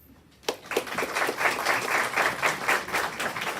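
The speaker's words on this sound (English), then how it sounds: "Please give her a round of applause." A crowd at a National Honor Society induction ceremony breaks into steady applause, many hands clapping together in a dense, continuous patter that stays loud to the end.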